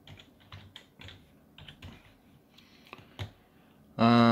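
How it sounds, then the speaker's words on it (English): Quick bursts of computer keyboard typing, close and crisp, with clustered keystrokes and short pauses, then a sudden loud tonal burst at the end. "type it as custom."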